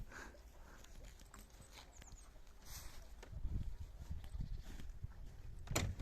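Hooves of a harnessed Percheron draft horse clip-clop over frozen winter ground, a fairly faint, uneven run of steps that grows louder and closer in the second half, with no talk.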